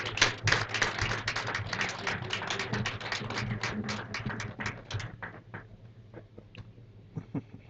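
Audience clapping at a job fair felicitation ceremony, dense scattered claps that thin out after about five seconds into a few isolated taps and sparse claps.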